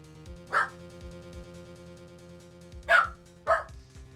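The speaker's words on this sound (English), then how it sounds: "was barking because I think he heard another dog bark" A dog barks three times at close range, one early bark and then two in quick succession near the end, each short and sharp over a quiet, faintly humming background.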